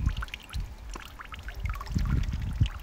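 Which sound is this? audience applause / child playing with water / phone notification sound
child playing with water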